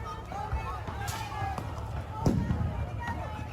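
Tear gas launchers fire non-lethal rounds at a crowd during a riot, with a few sharp pops at intervals heard beneath steady speech and street noise.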